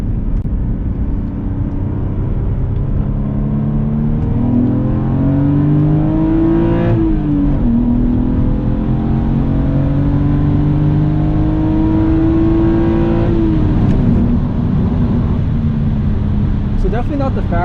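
A BMW E46 ZHP accelerating hard from inside the cabin: a loud, smooth engine drone climbs steadily in pitch, drops briefly at a gear change partway through, then climbs again before easing off.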